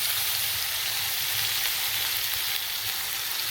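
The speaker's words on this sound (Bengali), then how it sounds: "সর্ষে বাটার জলটা দিয়ে দিচ্ছি।" Watery mustard paste hitting a hot pan, a steady loud sizzle and bright frying hiss that stays even for a few seconds with a faint low bubbling beneath and no voices.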